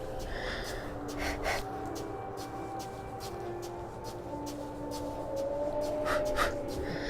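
Player character in the video game NaissanceE breathing in short gasping, panting bursts over a soft ambient drone with faint tonal lines, no talking.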